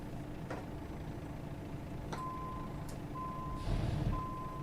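Steady electronic reversing beeps from a truck in American Truck Simulator repeat at even intervals over a constant engine rumble, with a brief hiss of air brakes.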